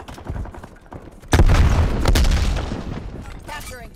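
A frag grenade goes off in the video game Call of Duty: Black Ops Cold War, a sudden loud boom with a rumbling tail over ongoing gunfire and game sounds, with voices heard.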